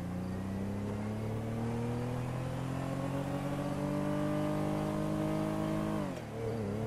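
A Toyota Corolla accelerates in the video game GTA V, its engine note climbing steadily and loudly for several seconds before dropping sharply at a gear shift near the end, with no speech.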